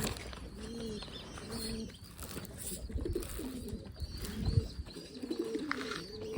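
Pigeons coo repeatedly in soft, low bursts nearby, with faint chirps and occasional background clatter.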